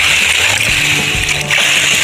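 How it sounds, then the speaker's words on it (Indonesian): Water is splashed and poured over homemade compost made from stale rice, a wet, sloshing splatter that runs continuously and close by, briefly dipping before resuming. "Kita siram-siram begini, yang penting rata, itu sudah cukup ya."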